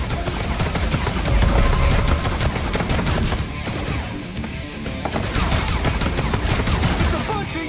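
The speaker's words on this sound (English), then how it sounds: "You're shooting at us!" Dense automatic gunfire in the Far Cry 5 Lost On Mars game, loud rapid bursts rattling almost nonstop with a short lull midway.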